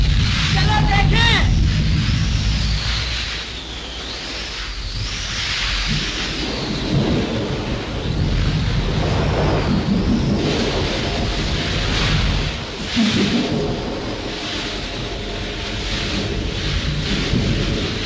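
A heavy thunderstorm rolls on throughout, steady loud rain with deep rumbling thunder, in a 1937 Hindi film scene, with voices faintly underneath.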